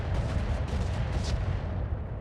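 Mortars firing in a mech combat video game, a dense rumble of heavy thuds and booms packed closely together in a short, loud barrage.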